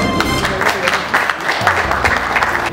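Audience applause at a music launch event in Pakistan, a dense burst of clapping from a crowd filling the room, steady and fairly loud with a brief dip midway.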